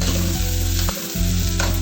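Green onion and capsicum hit a hot frying pan with oil, setting off a loud, close, continuous sizzle that dips briefly as the vegetables are stirred, then surges again.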